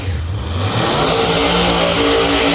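Pro Mod drag cars with centrifugal superchargers rev loudly and close by, a sustained, rising engine roar that builds and holds through the whole stretch.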